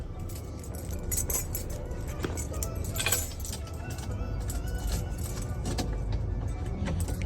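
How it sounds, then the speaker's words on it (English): A bunch of keys jangles and clinks repeatedly beside a 1973 Chevy Impala with a 5.3 LS swap, with bright metallic rattles coming in bursts over a low background rumble. "Yeah, I forgot which keys."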